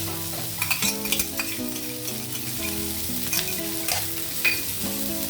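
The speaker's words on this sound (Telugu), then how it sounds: "బీన్స్ కొద్దిగా ఫ్రై అయిన తర్వాత నేను అల్లం వెల్లుల్లి పేస్ట్" Ginger garlic paste fries with beans in a pan, a constant close sizzle broken by occasional stirring clinks, with a sustained musical tone underneath throughout.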